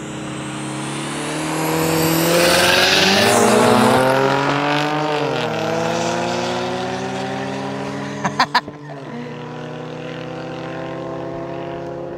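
A tuned turbocharged Volvo 940 and a Jaguar F-Type accelerate hard in a drag race from a rolling 50 km/h start, engines rising in pitch through gear changes with a loud roaring, hissing passage, then a few sharp pops as they fade off.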